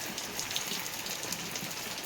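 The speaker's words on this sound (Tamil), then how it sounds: "இங்கே பாருங்க, ஷோன்னு மழை பெய்யுது" Heavy rain pours steadily outside, a dense, even hiss of drops drumming on surfaces close by, with no voices over it.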